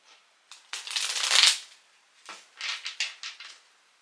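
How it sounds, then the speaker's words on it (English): Rider-Waite tarot deck shuffled by hand in two bursts of riffling card noise, close and fairly loud, with a short pause between. "Just give it one more little shuffle."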